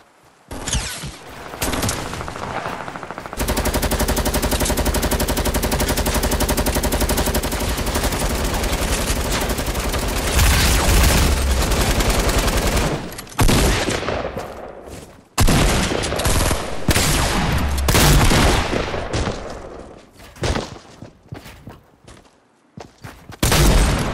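Rapid sustained gunfire in Fortnite, a long dense burst of automatic shots lasting several seconds, then further volleys after a brief pause, loud and close with no talk.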